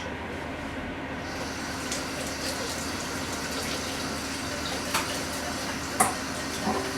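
Hands being washed under running water in a home kitchen, a steady close rush of flowing water with a few small splashes and knocks.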